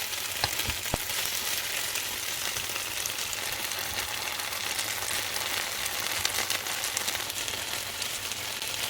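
Paneer, capsicum and onion fry on medium heat in a pan, producing a steady, even sizzle with a few faint clicks, close by and alone without talk.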